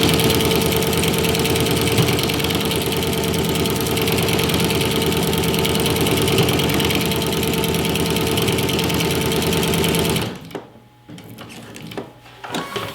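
A sewing machine stitches in the ditch on a quilted pillow, running steadily and loudly with a fast mechanical whir for about ten seconds before stopping, followed by a few faint handling sounds.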